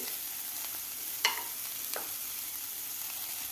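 Broccoli, carrot, corn and beans sautéing in butter, a quiet even sizzle with a couple of sharp utensil scrapes standing out.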